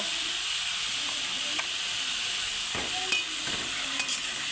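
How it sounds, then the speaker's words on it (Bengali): Ridge gourd frying in hot oil in a wok, a steady broad sizzle and hiss running throughout, with a few brief clinks and scrapes of stirring. "এবার কেটে রাখা চিচিঙ্গাটা এর মধ্যে কড়ার মধ্যে দিয়ে দেব।"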